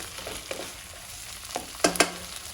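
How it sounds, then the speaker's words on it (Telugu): Mutton pieces frying in a pan for pulao, a steady low sizzle with a few sharper stirring clatters near the end, close and alone without talk. "మటన్ ఒక్కసారి పచ్చి వాసన పోయినంత వరకు వేయించుకొని"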